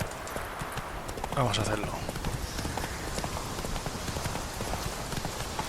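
Horse hooves clip-clopping in The Witcher 3 video game, a steady rhythmic trot running beneath a voice talking throughout.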